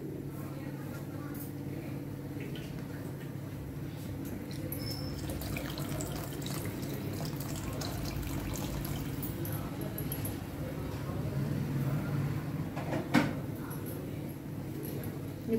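Water streams steadily into a pot of drumstick sambar, a continuous running-water rush with faint splashy texture throughout.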